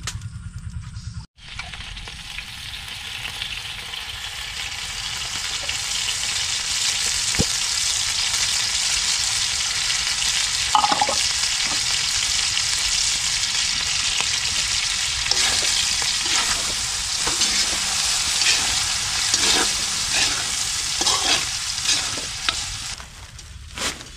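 Milkfish fries in a pan with a dense, continuous sizzle and crackle, punctuated by occasional pops and stirring clinks, close and loud with no talking.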